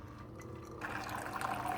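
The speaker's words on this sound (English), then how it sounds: "So what we're doing here is we're just running fresh water through" A Keurig K-Latte coffee maker rinsing fresh water through after descaling, a soft steady gurgle of water pouring and trickling into a cup that brightens and grows louder partway through.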